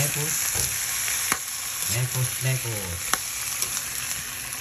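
Shrimp and noodles frying in a pan: a loud, constant sizzle with scraping stirs and light clatter, over a few faint background voices.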